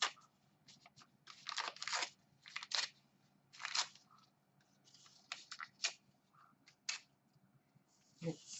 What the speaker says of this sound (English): Let's rip up some of this paper.